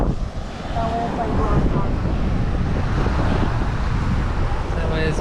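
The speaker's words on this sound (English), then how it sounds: "Maybe it's the wind." Wind buffeting a microphone outdoors at sunset on the Florida coast in St Petersburg, a steady rushing roar throughout with faint voices underneath.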